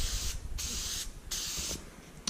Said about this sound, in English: So what we're going to do is just put a light haze on this filter,